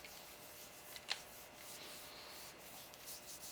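By hand, gun oil is rubbed into a Remington Model 12 .22 rifle, making soft, steady, faint rubbing and swishing with a couple of light ticks, with no talk.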